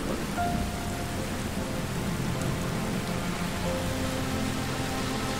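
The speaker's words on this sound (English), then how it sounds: "I like the rain, but damn." In the video game Stranger of Paradise: Final Fantasy Origin, steady rain falls and patters on surfaces, a continuous hissing wash with a low rumble beneath, with no talk on top.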